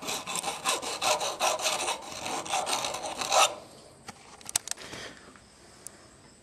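A hand file rasps back and forth over the rough metal edges of a homemade ATV part clamped in a vise, a rhythmic series of close scraping strokes, then a pause with a few light clicks and knocks.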